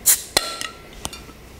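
A beer bottle of Southern Tier Pumking is pried open with a BB Barfly bottle opener, giving a bright metallic click and cap pop followed by a few sharp glassy taps and clinks, close and without talk.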